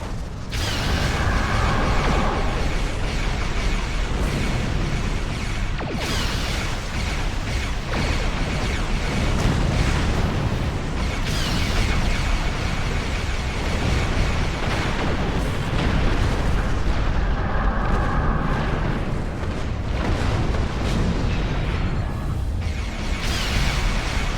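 Starship torpedo fire and explosions in the Star Trek Online space combat game, a continuous loud barrage of booms and bursts layered with mechanical game effects throughout.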